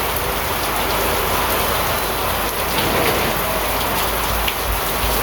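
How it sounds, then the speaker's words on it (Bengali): Heavy rain pours down in a steady, dense hiss of drops drumming on surfaces, continuous and even throughout with no voices. "কেমন বৃষ্টি নেমে গেছে"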